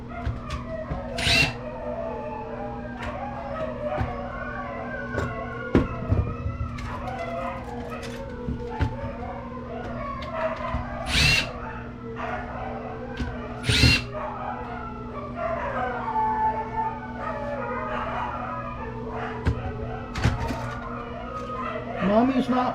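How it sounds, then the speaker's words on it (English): Dogs bark and whimper for attention in a workshop where a Dell Studio laptop is being scrapped, with sharp, repeated, fairly close yips scattered among power-tool whirring and someone talking throughout. "the dogs are requesting my attention again"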